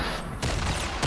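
Dense bursts of gunfire and explosions from the Fortnite video game, a loud continuous battle barrage with sharp onsets throughout.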